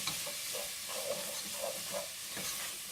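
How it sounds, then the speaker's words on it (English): Chicken curry sizzling steadily in a pan after a splash of soy sauce, with gochujang and peanut butter in the mix; a constant loud hiss with soft repeated scraping of stirring underneath, no talking. "I'm gonna add a little bit of soy sauce to help get all that stuff off the bottom of our pan."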